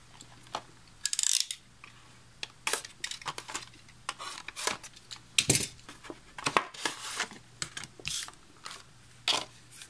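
A scrapbooking corner punch is unpacked and tested, giving a quiet series of sharp clicks, snaps and rustles of packaging and paper, irregular and close with short pauses between them.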